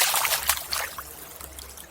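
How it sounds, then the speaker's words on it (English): An old glass bottle is rinsed in water, giving a close, fairly quiet trickling and splashing with a few sharper sloshes, water running unevenly throughout. "Just give this a wash as well."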